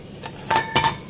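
Washed steel bowls lifted from a Bosch 14-place dishwasher clink together in a few short, close metallic taps, with no talk.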